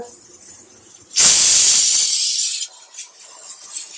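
Ghee hitting hot cooking mung dal gives a sudden loud sizzling hiss that holds for over a second, then drops to faint kitchen clatter.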